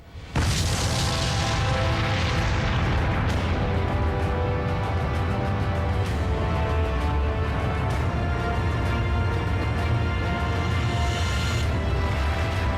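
Atomic bomb test explosion in the desert: a sudden loud blast after a quiet start, followed by a sustained, dense rumbling roar that holds at high level for over ten seconds.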